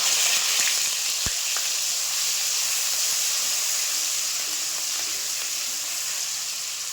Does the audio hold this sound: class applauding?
no